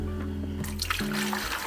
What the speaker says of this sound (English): so I'm gonna go ahead and pour in some water real quick.